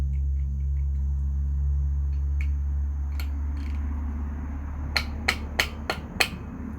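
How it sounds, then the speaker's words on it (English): Five sharp metallic hammer smacks tightening a billet power steering bracket bolt on an LS engine land in quick succession near the end, following a steady low hum with a few fainter knocks earlier. "A few smacks with a hammer should have that plenty tight enough."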